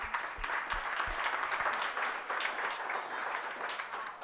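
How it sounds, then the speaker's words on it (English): An audience at a community coalition event breaks into warm, sustained applause, many hands clapping together at moderate loudness with a few sharp individual claps near the start. "Let's give her a round of applause for that."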